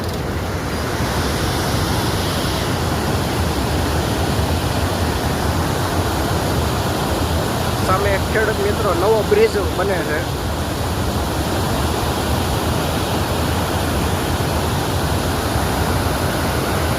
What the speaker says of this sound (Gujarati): જોરદાર કાગડિયા નદીમાં પૂર આવી ગયું છે।